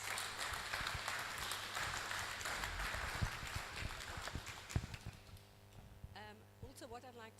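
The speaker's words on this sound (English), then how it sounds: "I'd like you all to give them all a really big clap" An audience at a Bothasig residents association AGM claps in a broad, continuous round for several seconds, moderately loud, before the clapping thins out and a voice begins speaking.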